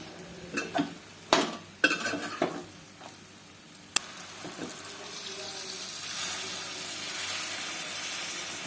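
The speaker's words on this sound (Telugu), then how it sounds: "అంతా పేస్ట్ చేసుకొని పోసేసుకున్నాము. కూరలు అంతా కలబెట్టేసుకున్నాము." Potato kurma with coconut and cashew paste is stirred in a pan: a few scraping, clattering strokes early on, then a softer sizzling simmer as the mixing settles.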